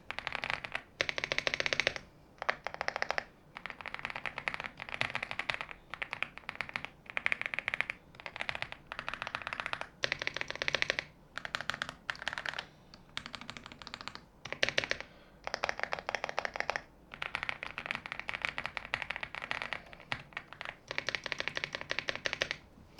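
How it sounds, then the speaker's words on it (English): Continuous clacky typing on an AULA F99 mechanical keyboard, bursts of rapid keystrokes separated by brief pauses, close and clear with no talking. "so you guys can get a sound test on how the switches and the keycaps sound like"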